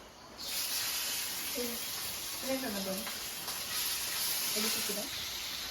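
Prawns frying in hot oil on a thick griddle for a Kerala-style prawn roast: a steady broad sizzle and hiss throughout, with people talking intermittently over it.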